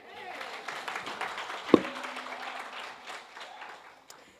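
Scattered audience clapping at a book launch event, light, uneven and somewhat distant, with a brief sharp knock and a voice speaking under it.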